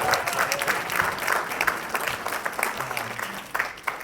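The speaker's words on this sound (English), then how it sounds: "So let's give a round of applause for Johnny," A room of people clapping in a round of applause for Johnny at a thank-you gathering, dense and continuous for a few seconds.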